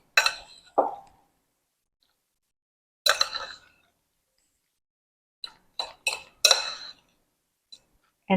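Spoon clinking and scraping in a bowl while 2 teaspoons of Old Bay seasoning are stirred into a vegan mixture, heard as several short, close, sharp bursts separated by quiet gaps.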